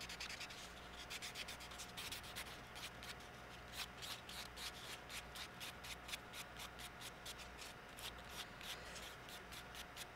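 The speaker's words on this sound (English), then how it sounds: "this is where you're going to want to use your nail buff." A nail buffer rubbed over a Jamberry nail wrap, producing faint, close, rapid rhythmic scratchy strokes that repeat steadily throughout.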